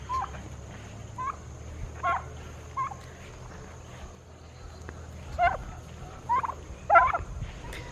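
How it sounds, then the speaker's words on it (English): A tom turkey on a homestead gobbling repeatedly, several short rattling gobbles spaced a second or so apart over faint background hum, the last calls loudest and closest. "That is our Tom turkey."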